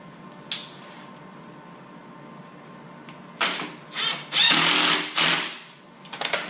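Power drill driving a screw into a stone crab trap, several short bursts of whirring near and loud after a quiet stretch with a lone tap, each burst rising and stopping in uneven rhythm.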